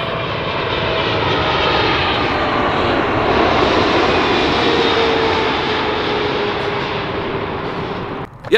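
A loud, steady Boeing 737 jet engine roar in a flight simulator drones continuously, broad and even, cutting off abruptly at the end.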